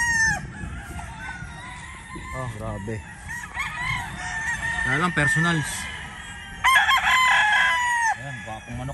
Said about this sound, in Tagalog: Gwapong manok to.